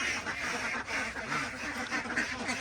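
Ducks quacking in their pen, a steady chorus of overlapping quacks from several birds, fairly faint, close and continuous throughout.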